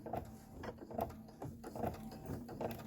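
An embroidery machine sews a tack-down stitch on a Kimberbell fire station piece, giving a quiet, close, rhythmic ticking and whirring that repeats in regular pulses over a few seconds, with no talk.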